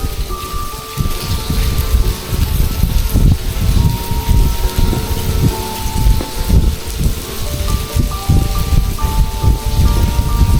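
Steady rain falls around an old abandoned railway tunnel in Maizuru, a dense, continuous hiss with wind and rustling leaves, a few faint tonal sounds drifting over it, loud and close throughout.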